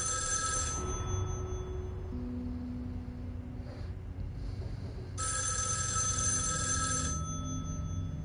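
An old-style telephone bell rings in the video game Erica, two loud rapid bursts about four seconds apart over a low ambient hum, with no talking.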